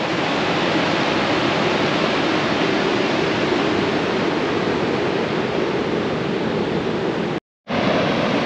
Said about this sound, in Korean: 와, 물소리도 장난 아니네.